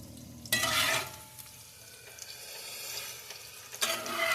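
Onions fry in a pan for German potato salad, with two loud bursts of hissing sizzle and a quieter, crackling sizzle between them.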